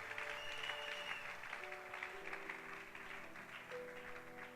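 A church congregation claps and cheers during praise worship, a steady wash of applause that stays fairly faint and distant and carries through the whole stretch.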